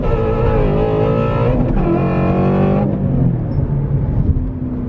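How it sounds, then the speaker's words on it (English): A Ford Mustang GT350 on E85 pulls hard in first gear, its engine note rising loud and close before a shift and a second climb, with no talk. "I can do a first gear pull now that the Mustang's on the 85, and it rips hard"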